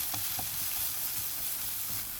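Green onions and vegetables fry in a pan for kimchi fried rice, giving a steady, loud sizzle with a few soft stirring scrapes, close and continuous, with no voices.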